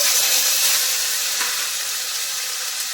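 Chopped tomato hits hot oil tempered with bay leaf and black cumin, making a loud, continuous hiss and sizzle close by with no voices.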